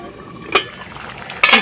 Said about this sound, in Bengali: অল্প আর একটু জল দিয়ে কষিয়ে নেব, যাতে মশলাটা ভালোভাবে কষানো হয়ে যায়